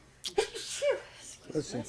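A single quick sneeze sounds near the start at a town selectboard meeting, followed by a voice speaking in a quiet room.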